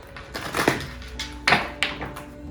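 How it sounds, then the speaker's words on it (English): Tarot cards are shuffled by hand during a reading, giving several close, crisp papery riffles and taps in irregular bursts, with no talk over them. "I gotta shuffle to the side so the cards don't go flying"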